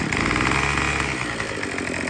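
A petrol weed whacker with a fault that makes it die when the trigger is pulled runs steadily, giving a close, buzzing two-stroke drone that eases slightly near the end.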